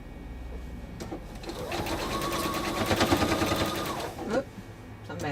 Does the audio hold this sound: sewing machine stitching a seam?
yes